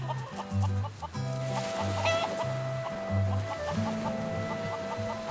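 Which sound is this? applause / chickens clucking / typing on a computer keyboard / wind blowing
chickens clucking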